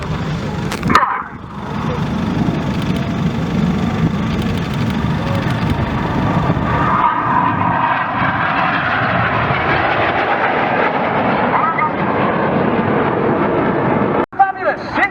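Aerobatic display jets of a synchro pair roaring past at a seaside airshow, a loud sustained broadband rush that swells and holds for most of the stretch before cutting off abruptly near the end.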